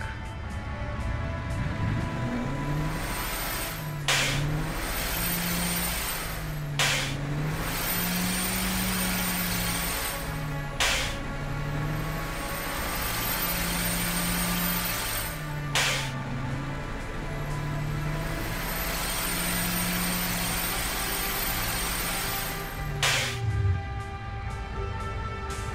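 A high-torque diesel engine, the kind used in trucks, runs steadily on a dyno or test stand, producing a loud, continuous low drone with a wavering pitch and occasional sharp transients, with no voices over it.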